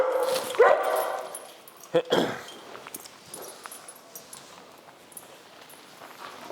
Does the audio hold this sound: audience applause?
no